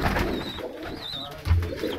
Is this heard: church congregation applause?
no